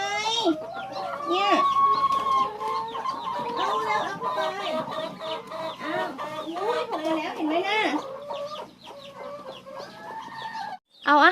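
Egg-laying hens in a rural backyard coop cluck and squawk continuously at close range, with overlapping calls and brief pauses, and a voice briefly breaks in near the end.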